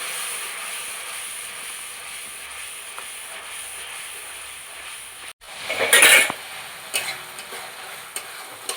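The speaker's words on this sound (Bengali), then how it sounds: "এবার আমি যে মশলাটা করে রেখেছিলাম সেই মশলাটাকে একটু কষে নেব।" A spice paste cooks down in a pan with the leftover spice-washing water for a Bengali chorchori of elephant-foot yam stalks. A soft sizzle runs under the cooking, then a burst of scraping stirring and clinks of a utensil follows.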